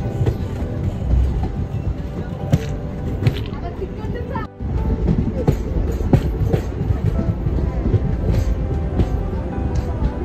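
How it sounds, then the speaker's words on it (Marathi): A passenger train pulls into Pandharpur railway station on the Kolhapur to Solapur line, a continuous rattling roll of wheels with rhythmic clacks and a brief dip midway, heard up close from aboard, with voices mingled in. "पंढरपूर या रेल्वे स्टेशनचा आता आपण अरायवल घेऊया."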